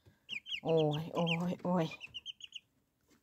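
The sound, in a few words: chicks clucking at a nipple drinker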